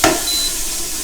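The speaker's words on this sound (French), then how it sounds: "je viens déglacer le fond de ma poêle." Merlot vinegar hitting a hot frying pan to deglaze it, giving a brief loud sizzling burst at the start that settles into a steady hiss, with no talking.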